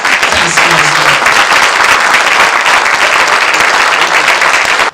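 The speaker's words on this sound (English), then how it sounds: "clap loud for my volunteers" Loud, sustained applause from an audience at a 20th-anniversary reception for Team Jamaica Bickle, filling the whole stretch with dense, even clapping and crowd noise.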